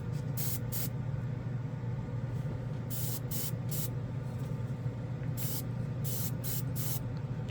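A NEOECO airbrush sprays paint in repeated short bursts of bright hiss, each lasting a fraction of a second, over a steady low compressor hum, loud and close with no talking.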